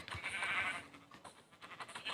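A Minecraft sheep bleats in a short, slightly shaky call, followed by faint rustling and a few quieter sounds.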